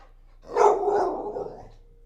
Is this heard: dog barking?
yes